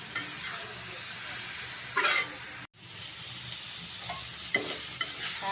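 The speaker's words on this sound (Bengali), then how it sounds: "এখন নেড়ে চেড়ে নিব। কাঁচামরিচ দিয়ে দিলাম।" Leafy greens fry in a pan with green chilies, a continuous sizzling hiss broken by scraping stirs and a brief cut of silence midway.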